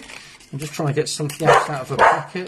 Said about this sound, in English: That's my dog shouting.